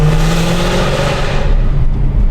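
A 2012 Mercedes-Benz W204 C63 AMG rumbles loudly up close, its engine humming steadily and then revving slightly as the car pulls away, no talking.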